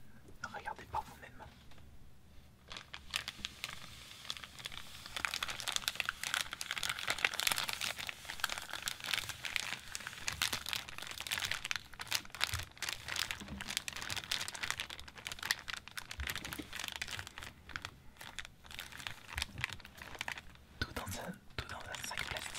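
Plastic bag crinkles around World of Warcraft trading card packs, with dense, close crackling and rustling bursts that continue throughout, accompanied by soft whispered talk.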